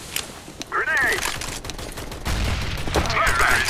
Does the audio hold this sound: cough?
no